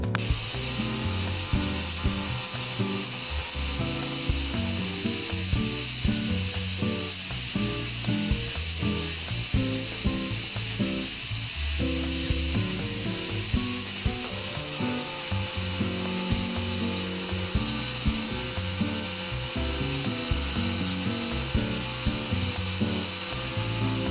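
Continuous mechanical whirring and grinding with a rough, rubbing texture, steady throughout, from an electric nail drill with a safety bit filing nails up close.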